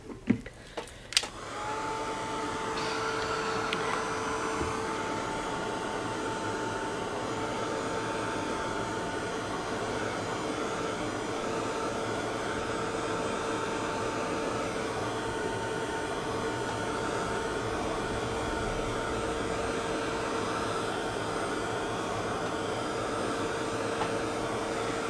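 A hair dryer blows steadily on wet paint on a shabby chic plaque, a close, even whooshing hum with a faint whine that runs unbroken for about 25 seconds after a couple of brief clicks as it starts.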